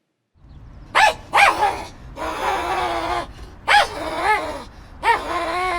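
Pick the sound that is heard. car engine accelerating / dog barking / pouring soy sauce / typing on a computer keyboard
dog barking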